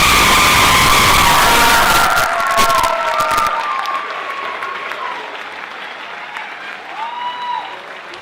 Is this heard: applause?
yes